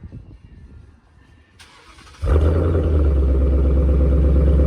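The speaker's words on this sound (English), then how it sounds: "start this thing up and you're gonna see how it sounds here in just a minute" A 2020 Ford Mustang GT V8 with Roush axle-back mufflers and resonator retained cranks and fires up, settling into a loud, deep rumbling idle after a moment of quiet background.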